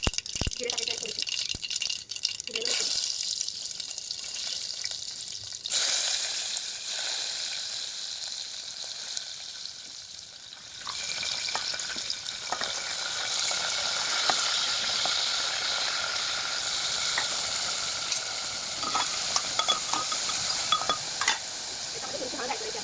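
Black pepper and cumin seeds frying in hot oil for dal khichdi, a steady crackling sizzle with stirring scrapes that swells louder partway through and holds at moderate volume.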